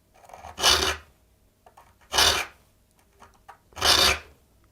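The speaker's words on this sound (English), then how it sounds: "There you have it, sharpening a dovetail saw." A file rasps across the small teeth of a dovetail saw plate in three slow, even strokes, each a loud, gritty scrape close by, separated by brief quiet pauses.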